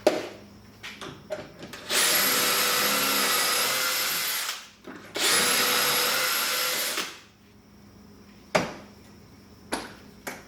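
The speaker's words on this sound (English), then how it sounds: "Gonna use my trusty old Craig jig" A drill bores pocket holes through a Kreg jig in two loud bursts of a few seconds each, with clicks and handling knocks from the workpiece in the pauses between.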